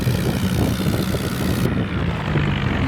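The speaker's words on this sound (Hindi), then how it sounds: "देखो इसके ट्रैक्टर को ले जा रहा है।" A farm tractor engine drives away in a rural field, its steady loud droning rumble continuous throughout with a slight shift in tone partway, no talking.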